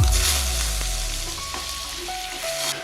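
Tamarind sautéed in tempering oil with urad dal for tomato chutney, a steady close sizzle with faint ringing pan tones, no speech.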